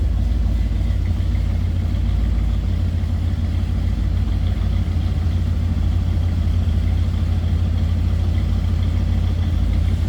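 A 1964 Ford Galaxie 500 convertible with a 390 V8 idles steadily, giving a loud, continuous low rumble with an even throb and no pauses, heard up close.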